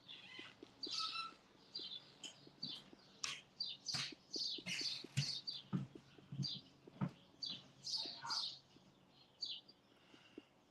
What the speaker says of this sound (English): Oh, yeah, the birds are ridiculous here.